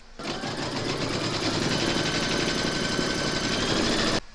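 An embroidery sewing machine stitches an outline in white thread, a fast, even mechanical whirr that runs unbroken for about four seconds and then stops abruptly.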